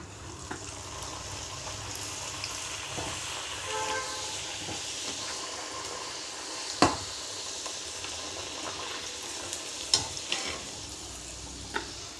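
Puri frying in hot oil in a pan over a low stove flame, a steady close sizzle and hiss with a few faint clinks and taps from the utensil, and no talk.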